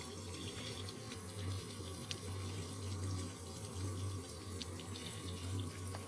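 A jug of water is poured onto a running Hcalory 8KW diesel heater in an all-in-one toolbox, making a steady, continuous rush of splashing water over a low, constant hum from the heater.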